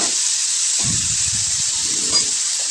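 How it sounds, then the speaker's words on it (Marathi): Vegetable pieces sautéing in hot cooking oil in a home kitchen, giving a steady bright sizzle throughout with soft crackles and spatters from the pan, close and fairly loud, no voices. "तर त्या फोडी ज्या आहेत व्यवस्थित मी तेलामध्ये परतून घेते अगोदर।"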